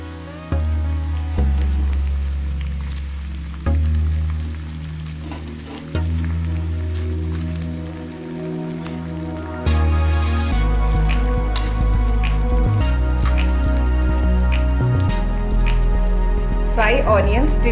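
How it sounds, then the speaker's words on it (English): Onions frying in hot oil in a pan for a paneer dum biryani, a steady sizzle running throughout with stirring clatter and a few louder bursts of hiss as pieces are moved. "This is to fry onions."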